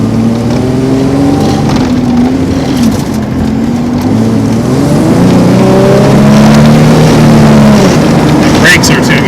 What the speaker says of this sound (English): the worst burnout ever